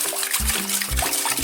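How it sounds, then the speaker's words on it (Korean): Water poured into a bowl of seasoned cucumber and carrot for a chilled chicken ramen dish, a continuous close splashing and trickling pour with faint low thumps and no speech. "다음에 물을 부어주세요. 자작자작하게 잠길 정도만."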